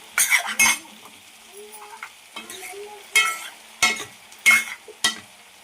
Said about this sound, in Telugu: టేస్ట్కి సరిపడా సాల్ట్ కూడా వేసేసుకొని ఒకసారిగా కలిపి వేసుకుందాం.